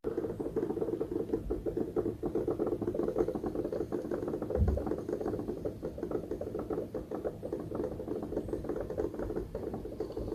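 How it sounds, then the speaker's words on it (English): Rain in the Returnal video game reproduced through the PS5 DualSense controller's haptic feedback, a dense rapid pattering and buzzing rattle, steady and close for the whole stretch with one brief thump near the middle. "all the rain sound that you heard, that was not out of the speaker. That was out of the haptic feedbacks that the DualSense is providing because of Returnal"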